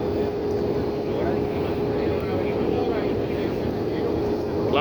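An Avianca Airbus A320-233 on approach and landing at Managua, heard as a steady, loud jet engine drone with an even tone and a person talking over it.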